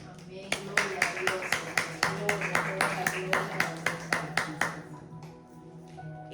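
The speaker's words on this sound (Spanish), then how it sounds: "Un aplauso para el Señor." A church congregation claps in a steady, even rhythm of about twenty sharp beats that slows and fades at the end, close and clear, with low voices beneath.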